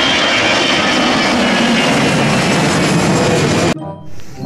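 A loud, steady jet-airliner roar accompanies a toy Batik Air A330 passenger plane in flight, holding continuously for several seconds before cutting off abruptly near the end.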